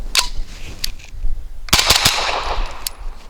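Shots from a Grand Power Stribog SP9 A3 9mm carbine, unsuppressed, firing 165 grain subsonic ammunition: one sharp report, a few lighter cracks, then a tight burst of about four close, loud shots with a ringing tail.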